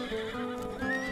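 A horse in the Roblox Wild West game whinnies, and clip-clopping hooves run underneath, all within about a second.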